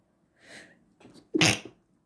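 A sharp inhale followed by a single loud, close sneeze, then quiet.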